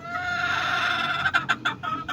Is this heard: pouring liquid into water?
no